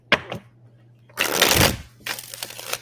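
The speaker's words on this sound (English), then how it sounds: "every time my deck does that, where I'm shuffling and it kind of gets stuck" A tarot deck being riffle-shuffled up close, with a couple of quick card flicks followed by a longer rustling burst and a softer ragged run as the cards catch and stick.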